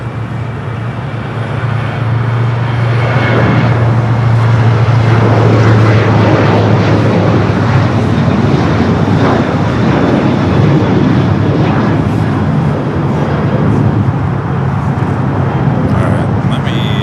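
Air Canada 786 heavy jet taking off from runway 25 right at LAX, a loud, steady engine roar building and holding for the whole stretch with a low hum underneath, while people talk faintly in the background.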